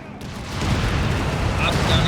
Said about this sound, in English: Artillery obliterating the 30 cal there.